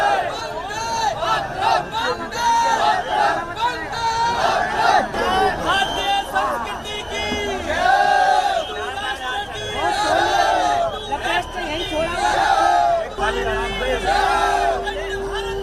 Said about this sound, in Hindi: यात्रा में भारत माता की जय, वंदे मातरम और हिंदू राष्ट्र के नारों की गूंज है।